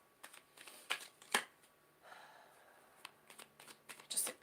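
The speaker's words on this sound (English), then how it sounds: "Just a couple more shuffles here, Ken." Tarot cards shuffled by hand in a quiet room, several short crisp riffling bursts and soft card slaps spread irregularly, close and fairly faint.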